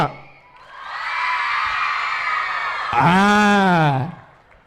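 Crowd cheering and whooping in an audience at a Kannada and Tulu film-industry event, a loud sustained roar rising to a high shrill peak before fading.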